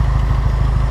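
A hot L134 Go-Devil engine powering a Hobart welder idles close by. It gives a loud, steady low chugging with even, rapid firing pulses throughout the short stretch.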